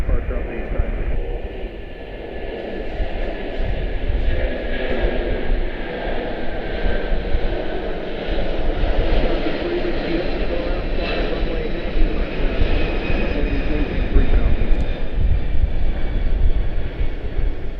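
An aircraft goes around at Washington Dulles, a sustained jet engine rumble and roar heard from a distance, steady and fairly loud, with thin whining tones above and a voice talking over it.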